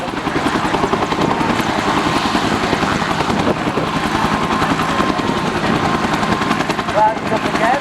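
Italian helicopter flying at the Portrush Airshow 2013, its rotor chop and engine roar loud and continuous throughout, with a brief flare-like whistle near the end.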